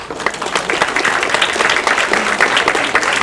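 An audience at a February beginner band concert gives a round of applause for the young players, a loud, continuous wash of many hands clapping close by, sustained and even throughout.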